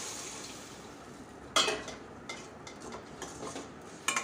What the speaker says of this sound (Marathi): छान मिक्स करून घ्यायचं आहे आणि मंद आचेवर आपण ही डाळ शिजू देऊया